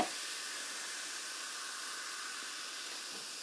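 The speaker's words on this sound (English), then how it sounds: "open up this Blackberry Natural Flavor sparkling water, pour it into this mug" Blackberry-flavored sparkling water poured into a mug over ice cubes, a steady fizzing hiss of carbonation that holds evenly throughout, close and fairly quiet.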